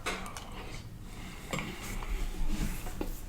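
Metal spoon clinking against a bowl while eating rehydrated Mountain House freeze-dried biscuits and gravy, with a few light, irregular taps and scrapes close by, loudest toward the end.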